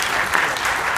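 Steady applause from a large audience at a student-athlete organization's film premiere, dense and continuous throughout, with no talk over it.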